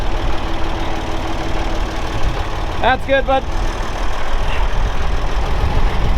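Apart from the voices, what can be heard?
tractor engine running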